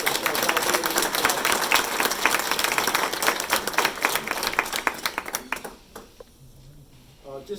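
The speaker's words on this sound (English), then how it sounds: "I would like just everybody to give just a brief round of applause for all the candidates together." A brief round of audience applause for the candidates at a mayoral candidate forum, sustained crowd clapping that tapers and dies away in the final seconds, leaving near quiet.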